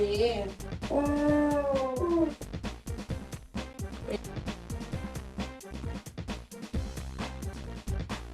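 A dog howling, drawn-out wavering cries close by in the opening seconds, then fainter yelps under a talking voice and a steady background of music.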